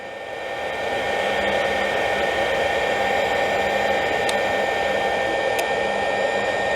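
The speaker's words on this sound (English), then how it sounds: "let's try 30 hertz at first. Couldn't ask for a quieter motor." Motor of a Rockwell 16-inch radial arm saw spinning at 30 hertz, a smooth steady whir that swells up in the first second and then holds evenly, with faint ticks and no talking.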